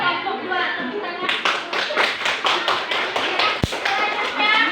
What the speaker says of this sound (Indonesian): Terima kasih untuk kelompok 2. Tepuk tangan.